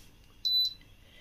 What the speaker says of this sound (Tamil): பீப் சவுண்ட் மட்டும் வந்துட்டுருக்கோம்.